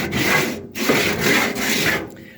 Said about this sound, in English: you paint something and then you scuff it up to make it look bad